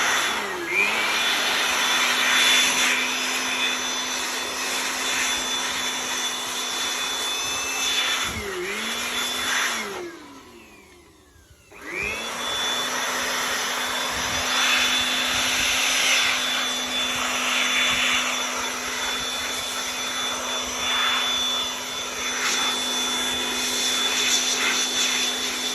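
Vacuum cleaner removing dust from an antique corner table, a loud steady whine and hiss that briefly dips and cuts out near the middle before resuming at full strength.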